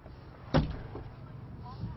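A single heavy kick thuds against a door reinforced with an Easy Armor security kit, a short sharp impact close by, followed by quieter room noise.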